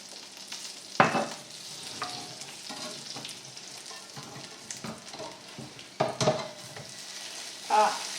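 Smashed potatoes topped with cheese browning in a pan give a steady soft sizzle. Louder scraping and clatter at about one second, six seconds and near the end suggest stirring or turning.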